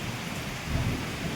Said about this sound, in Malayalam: അയ്യോ ഇടി വെട്ടുന്നു